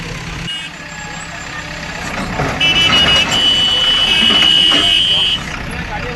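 A JCB excavator clearing unauthorised footpath structures and stalls on Hindalga Road, Belagavi, sounds a loud, steady run of high reversing beeps over an idling diesel engine and street noise, with people talking in the background.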